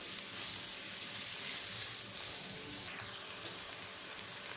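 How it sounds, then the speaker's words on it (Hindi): Julienned carrot, capsicum and cabbage sauté in a pan with a steady, close sizzle and soft hiss for several seconds, with no voices. "2 मिनट्स मैंने इसको सौते कर लिया है"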